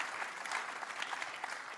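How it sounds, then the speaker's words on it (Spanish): A church congregation gives a short burst of steady, even clapping, heard from mid-distance, with a faint murmur of crowd underneath. "Denle un aplauso a Dios por eso."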